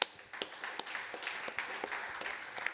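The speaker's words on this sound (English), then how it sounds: "I think that's a privilege of the local speaker to get an applause when you come on stage" An audience at a direct air capture summit applauds a speaker coming onto the stage, with sparse, fairly faint clapping and scattered individual claps standing out.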